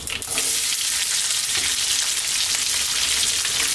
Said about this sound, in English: we're going to add our onions, our garlic ginger paste